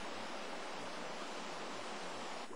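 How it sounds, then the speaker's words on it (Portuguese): Cold, clear river water rushing steadily along long channels toward fish-farm tanks at a trout farm, a constant broad hiss of flow with no voices, close and even throughout. "A água corre nessas longas canaletas até o complexo de tanques da criação."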